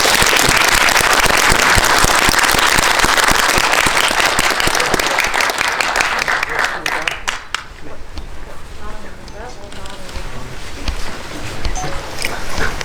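An audience at a cinema guest-visit screening of the film The Mathematician of Wonderland claps loudly for the director and two actors. A dense, roaring burst fades after several seconds to scattered claps as a voice comes in.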